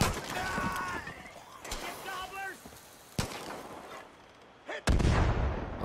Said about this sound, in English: could you stop mortaring, please?